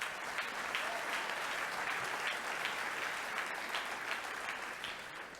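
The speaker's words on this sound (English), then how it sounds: "Give him a round of applause." A room full of guests at a charity gala ball applauds an honoree, sustained even clapping that holds steady throughout, moderately distant and without talk on top.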